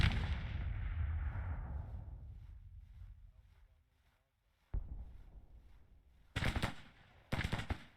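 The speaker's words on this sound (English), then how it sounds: "we are firing into the 1st South Carolina over here" Musket and artillery fire in a Civil War battle in the strategy game Grand Tactician: The Civil War, a rumbling volley fading out, then a lone report and sharp crackling bursts, fairly distant.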